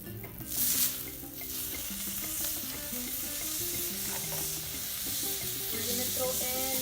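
Vegetables fry in olive oil and butter for a smoked lamb omelette, a close, steady sizzle with a loud hissing burst near the start and faint utensil tones running underneath.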